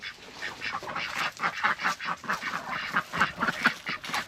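A group of ducks quacking busily in a backyard orchard, a dense, overlapping chorus of rapid quacks at moderate distance, steady throughout with no talk.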